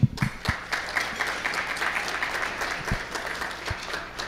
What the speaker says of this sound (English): Just give another round of applause to the Sheikh,